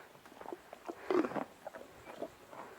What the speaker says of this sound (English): She's chewing.